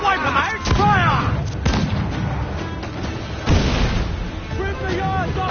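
Ship cannons fire in broadside volleys in the pirate naval game Assassin's Creed Black Flag, heavy booms with rumbling tails amid battle noise, while voices shout over them.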